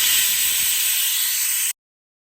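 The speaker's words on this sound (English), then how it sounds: "I'm going to force release the pressure from the cooker" Pressure cooker steam force-released on a stove while cooking dudhi halwa, a loud continuous hiss that cuts off abruptly.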